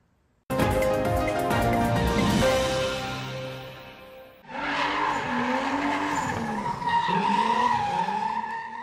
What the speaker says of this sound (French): Des pneus qui crissent, des manœuvres dans des nuages de fumée qui épatent petits comme grands.